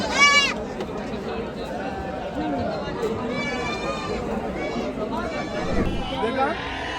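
Goats and sheep bleat repeatedly at a large livestock market in Chakan, Maharashtra, several animals calling near and farther off over a murmuring crowd, with people talking throughout.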